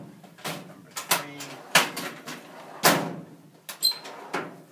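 Metal file cabinet drawers slide open and shut repeatedly, each rolling scrape ending in a sharp clack or thud, several in irregular succession, close and fairly loud.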